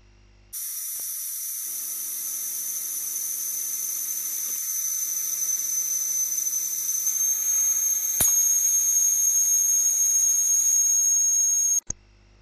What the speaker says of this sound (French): le passage en mode vapeur vers le mode sifflement de la fameuse valve en question